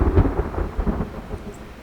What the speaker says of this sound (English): A thunder brings Regulus back to her senses